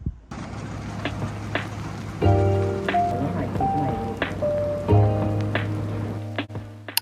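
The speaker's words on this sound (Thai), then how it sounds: "ฝนตกอีกแล้ว" Rain falls steadily in the background as a soft, even patter with occasional louder drops, while a voice and some tonal sounds sit over it.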